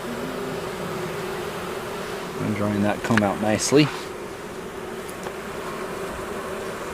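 Honeybees buzz steadily around an open hive with drawn comb during an inspection, a dense close drone throughout, briefly swelling as bees pass near, with someone speaking over it.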